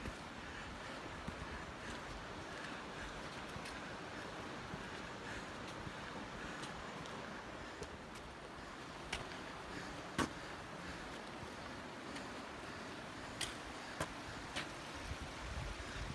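High water rushing along Borden Creek beside a horse-trail entrance and bridge, a steady broadband roar that fills the scene with no pauses, close and fairly loud, with occasional small splashes or wind gusts on top.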